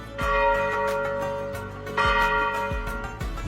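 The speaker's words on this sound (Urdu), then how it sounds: "اور گھنٹیوں کی صدا بھی۔" Temple bells ring out in repeated strikes, their bright tones overlapping and lingering, loud and close with no voices.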